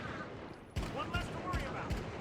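Akimbo 50s pistols firing in the shooter game The Finals, four loud, punchy shots spaced roughly evenly over two seconds, each with a sharp crack and booming low thump, over faint game ambience.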